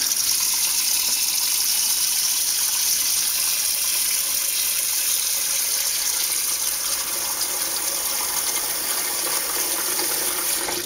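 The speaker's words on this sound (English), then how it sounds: "we were just going to take and fill this up with water." Steady rushing of tap water pouring into a container, a continuous bright gush with no talking.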